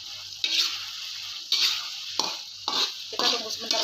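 Corn and pumpkin shoot leaves stir-fried in a pan sizzle steadily while a spatula scrapes and tosses them in repeated bursts, close and clear.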